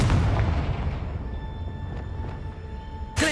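In Hogwarts Legacy, the Confringo spell goes off with a heavy booming blast that fills the start and decays into a fading rumble and ringing tones, followed by a sharp burst near the end.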